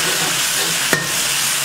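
Sliced large onions hit hot oil with cinnamon, cloves, cardamom and fennel in a village-style goat intestine gravy, giving a loud, steady sizzle throughout with a brief sharp scrape of stirring.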